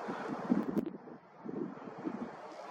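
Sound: wind blowing

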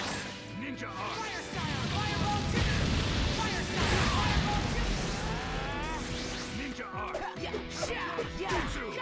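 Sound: fire style fireball jutsu in Naruto Storm 4 video game

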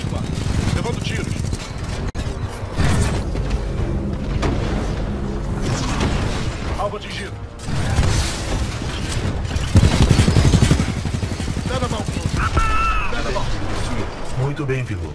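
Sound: gunfire hitting the player in video game Titanfall 2

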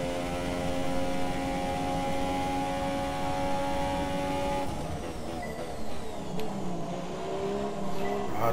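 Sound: Formula 1 race car engine in video game F1 2017

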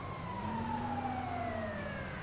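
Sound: ambulance siren in video game GTA

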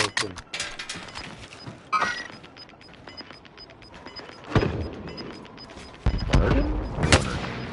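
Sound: sniper gunfire in the video game Warzone

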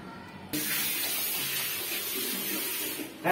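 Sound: water flowing from the pressure pump

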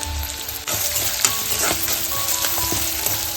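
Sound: onion frying in a pan

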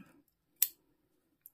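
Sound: scissors cutting knitting yarn

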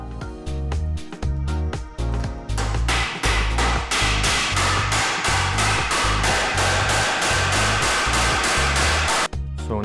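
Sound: hammering a nail into hardwood floor

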